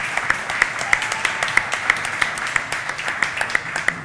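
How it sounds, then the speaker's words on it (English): A seated audience at a Chicago brewing-industry panel talk gives the panelists a steady round of clapping, dense and even throughout, with no voices over it. "So big round of applause to those guys and Tony."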